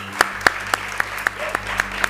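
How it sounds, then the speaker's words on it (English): Applause for a panel on the arena stage of a startup summit comes through as a short run of evenly paced, sharp claps. The claps sound over a low electrical hum and faint room murmur. "So please give a huge round of applause to this incredible panel."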